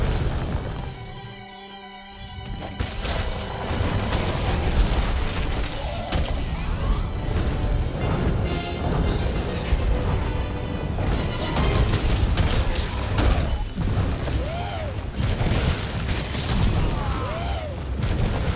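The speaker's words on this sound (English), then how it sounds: "And then a bomb went off." A bomb exploding in Monster Hunter World: heavy booms and crashing thuds within a loud, busy game soundscape after a brief quieter dip near the start, with voices talking intermittently.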